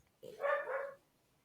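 A dog named Steve gives a single close, loud bark, a short tonal woof lasting under a second.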